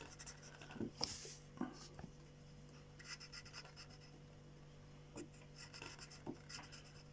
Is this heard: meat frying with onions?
no